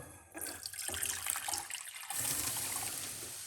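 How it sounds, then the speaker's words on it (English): Hot water pours steadily into a pot, a continuous splashing trickle that shifts in tone partway through, close by with no talking. "we're going to pour 1 cup of hot water"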